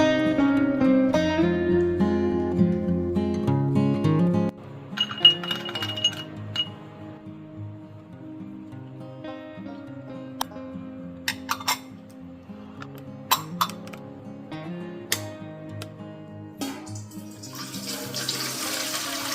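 Dishes being washed under a running kitchen tap: water pours steadily while glass and utensils clink in scattered bursts, with a louder gush of water near the end.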